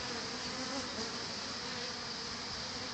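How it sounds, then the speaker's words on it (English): Bees from a very small colony swarm around a queen, producing a dense, steady buzz that stays close and loud throughout with no voices. "a lot of bees quickly coming up here to check out this queen"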